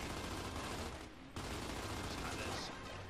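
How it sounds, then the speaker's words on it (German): Rapid gunfire crackles in the video game Gears of War 2, a dense, continuous fusillade with a brief dip in the middle, faint and distant in the mix. "Und ein Schuss noch. Bam!"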